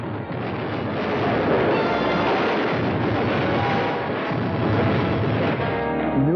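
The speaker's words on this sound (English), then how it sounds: "Big stuff blowing up everywhere." Big film explosions boom and rumble continuously across the whole stretch, loud and dense, with no talking over them.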